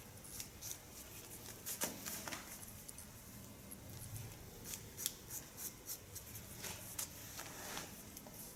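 Scissors snip repeatedly while cutting a man's hair, producing quiet close-up clicks and metallic snips in irregular clusters with short pauses, with no talking.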